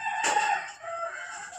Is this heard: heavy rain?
no